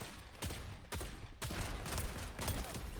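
A tactical shotgun fires in the Fortnite video game, with about five sharp, punchy blasts spaced roughly half a second apart and a close, loud sound.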